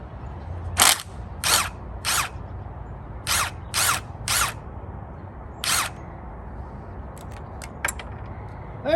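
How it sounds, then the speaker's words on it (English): High-speed impact tools remove bolts from an outboard motor during a rebuild, with about eight loud, close, second-long bursts of rattling spin spaced by short pauses, then a few faint clicks. "That enabled us to use high-speed impact tools to remove those bolts."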